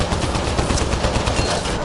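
Rapid automatic gunfire in Mass Effect Andromeda, a dense, loud, continuous stream of shots rattling without pause for the full moment.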